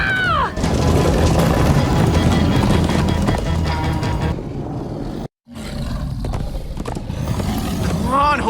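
Horses galloping in the video game Minecraft: Story Mode, a loud continuous pounding of hooves with game music and shouts on top, a sudden brief dropout midway, then the galloping rushes on again.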